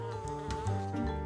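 Bees buzz while flying past garden flowers, a steady close insect drone with a wavering hum that holds through the whole short stretch, alone with no talk.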